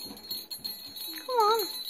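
A pet bird rings its small bell, a bright tinkling ring in the latter half that follows faint background chatter and soft handling noises.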